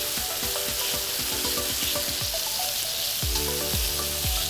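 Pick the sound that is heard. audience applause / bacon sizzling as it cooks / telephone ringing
bacon sizzling as it cooks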